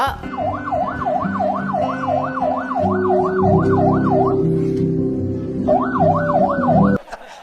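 A loud police vehicle siren wailing with rapid rising-and-falling cycles, pausing briefly before resuming, over a low rumbling engine and traffic noise.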